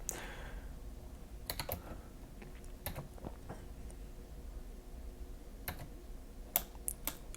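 Quiet, sparse computer keyboard key presses during a session of the roguelike Dungeon Crawl Stone Soup, scattered single clicks and short clusters over a low steady room hum.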